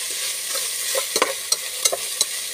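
Meat sizzles in a pan while being stirred for pakbet, a steady frying hiss under a few sharp clinks and scrapes of the utensil against the pan, close and with no talking.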